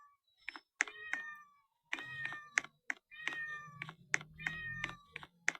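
A cat meows repeatedly in a short series of distinct calls, fairly close and clear, with light tapping or clicking sounds between the meows.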